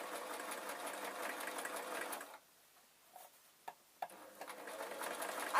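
A sewing machine stitches a travel pillow, a rapid steady whirring chatter for about two seconds, then a pause with a few soft clicks before the stitching resumes near the end.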